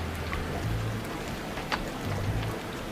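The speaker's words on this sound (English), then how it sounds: "And then the rain came." Steady rain falls in a continuous hiss with a few sharper drop hits, moderately close, over a low rumble.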